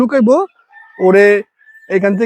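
Native chickens on a village poultry farm make several short, loud bursts of clucking and crowing close by, separated by brief pauses of near silence.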